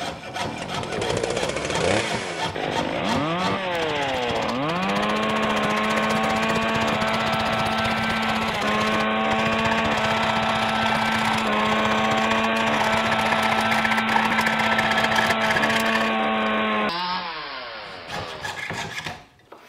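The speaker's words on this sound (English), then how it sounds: "Lubricate the saw with some beeswax and just follow my mark." A hand saw, lubricated with beeswax, cuts a metal bezel strip for a serrated ring in a steady rasping stream of close strokes that runs for most of the stretch, with a steady whine underneath.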